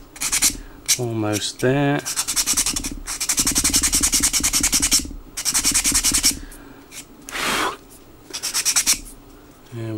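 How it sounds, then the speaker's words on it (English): Sandpaper rubs back and forth over wooden planking on a 1/84 scale HMS Victory model hull, several bursts of steady rasping strokes close to the microphone, with short pauses and a few spoken words between them. "we've just sanded it, so it's not, we've not sanded into the planking, but we've sanded it sort of level"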